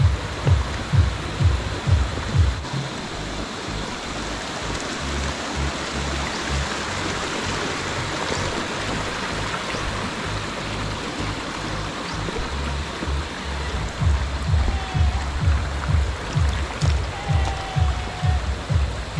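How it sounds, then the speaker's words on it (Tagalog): Steady broadband rush of flowing water, like a creek running over stones, continuous throughout with some low rhythmic thumps near the start and end. "Dito tayo sa may sapa dumaan"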